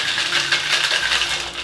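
Cocktail shaker holding triple sec and tequila shaken steadily, a continuous bright rattle of ice against metal sustained at close range, fairly loud and even throughout.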